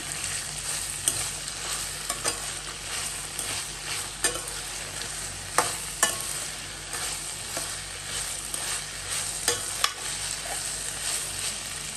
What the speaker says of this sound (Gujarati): અને સરખી રીતે મિક્સ કરી લઈએ.